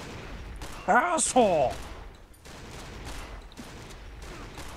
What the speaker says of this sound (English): Wait, that zombie has a gun!